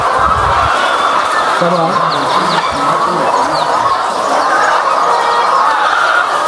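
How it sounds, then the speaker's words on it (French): Laying hens in a battery cage barn cluck and chatter in a dense, continuous din, with someone speaking briefly in French over the flock. "C'est ça qu'on appelle élevage de poules pondeuses sous batterie."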